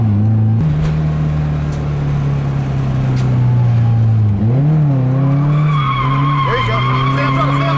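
A V8-powered LS1 Nissan S13 drift car holds a loud, steady engine drone with tire squeal during a tandem drift, the revs dipping and surging midway, close and continuous throughout.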